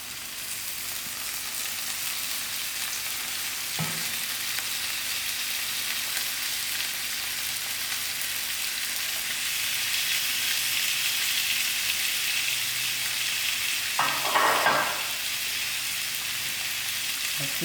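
Minced meat for shepherd's pie fries in a pan with a steady hissing sizzle throughout, broken by a couple of brief clattering stirs.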